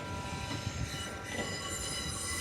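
A pair of Class 444 electric trains passes through London Waterloo, a continuous loud rumble of wheels on rails with high, sustained wheel squeal throughout, alone without voices.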